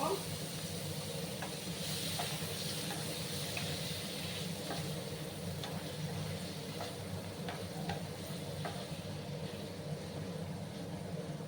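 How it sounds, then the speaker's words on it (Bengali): Paneer cubes frying lightly in a pan over a low gas flame give a soft, steady sizzle and hiss with faint occasional pops. "গ্যাসের আঁচটাকে আমি কমিয়ে রেখেছি, একটু হালকা করে ভাজবো"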